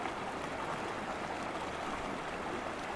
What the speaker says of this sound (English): this creek is just continuing to flow and flow and flow,